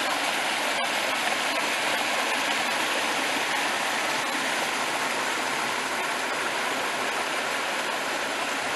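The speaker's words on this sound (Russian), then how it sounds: "Речка опять." A stream at Hedden Park, New Jersey, rushes in a steady, close, broadband wash of flowing water, unbroken throughout with no voices.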